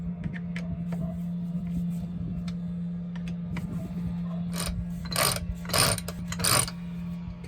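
On a CT41 ketch under way, a sailboat winch turns with a steady mechanical whir and scattered ratcheting clicks, gathering into a few louder bursts near the end against a constant low hum.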